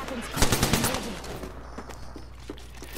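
Rapid gunfire from the video game Apex Legends, a dense burst of shots in the first second or so, then a few scattered single shots, up close and loud.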